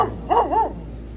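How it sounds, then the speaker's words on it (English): A neighbors' dog barks once from a nearby backyard with a fire pit, a single short, wavering yelp over quiet outdoor background. "Neighbors have a dog."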